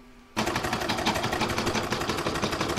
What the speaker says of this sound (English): I'm now going to pop that back in my machine and stitch around number 8.